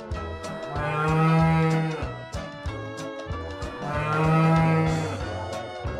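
A cow gives two long, deep, loud moos, each lasting over a second and separated by a short pause, close and clear with no talking.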